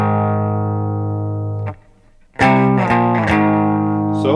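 Sustained distorted electric guitar chord rings out, a brief pause, then a short riff of several accented notes played loud and clean-cut.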